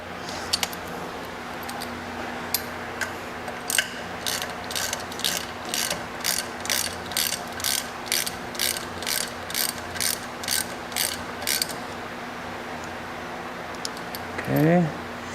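A ratchet loosens a fan shroud bolt on a 1972 GMC 3500 wrecker, clicking in a steady run of about fifteen even back-and-forth strokes. It is close and loud, with garage background noise and brief talk near the end.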